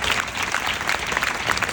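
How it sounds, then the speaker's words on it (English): Audience at a business goal-setting forum applauding, a steady dense wash of many hands clapping throughout with a faint crowd murmur, loud and continuous. "Can we give New Skin another big round of applause?"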